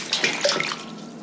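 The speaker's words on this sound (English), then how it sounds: "And then we'll put some more water in" Water pours briefly into a dye pot holding skeins of tencel, wool and cotton yarn for natural dyeing, a close, short splashing gush that fades quickly.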